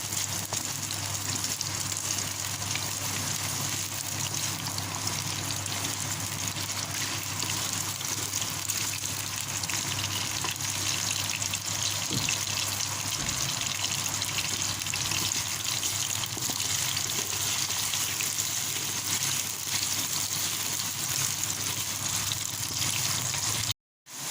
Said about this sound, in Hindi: ये देखिए हमारे जो आलू हैं वो फ्राई हो रहे हैं तकरीबन।